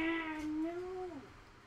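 A house cat gives a single drawn-out meow, close and clear, rising then falling before trailing off, alone with no talk.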